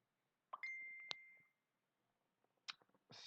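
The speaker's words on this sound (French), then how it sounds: "c'est mon téléphone que vous venez d'entendre" A mobile phone notification chime rings once, a bright ringing tone that fades over about a second, followed by a few faint clicks and taps.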